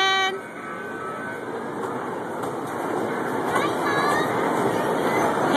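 A small train rumbles steadily along its track, with a high whistle-like tone and people talking faintly nearby.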